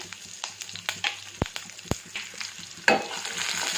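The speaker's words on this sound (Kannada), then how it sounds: "ಇದನ್ನೆಲ್ಲ ಒಂದು ಸ್ವಲ್ಪ ಈರುಳ್ಳಿ ಫ್ರೈ ಮಾಡ್ಕೊಳ್ಳೋಣ" Finely chopped onion frying in a pan with mustard seeds and curry leaves, a steady close sizzle punctuated by sharp spatula taps and scrapes, then a louder burst of hissing near the end.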